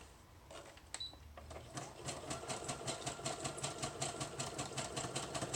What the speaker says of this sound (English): This machine comes with a whole bunch of stitches, and then it also embroiders